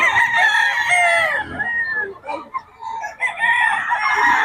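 A young gamecock stag crows loudly and close by in repeated strained calls, with clucking and other fowl sounds around it.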